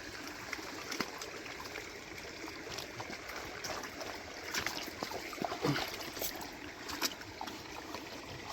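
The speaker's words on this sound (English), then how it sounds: "It's the creek that goes into the river." A creek runs into a river outdoors with a steady, broad rush of flowing water and small trickles and splashes on top. The water sounds moderately near and there is no talking.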